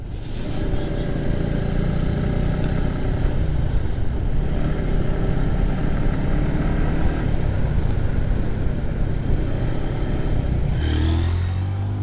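Steady, loud engine drone from a group of nine motorcycles, among them a Suzuki Gixxer SF, riding together through remote hill country in Bandarban. A continuous roar holds close by without a break, with a brief shift in tone at the end.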